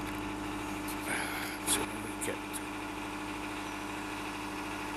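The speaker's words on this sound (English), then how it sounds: "the first jobs this morning when we got up was to to run the engine to warm it up" A vehicle engine idles on a cold morning to warm up, giving a steady low mechanical hum that runs the whole time, with a few brief knocks and rustles near the middle.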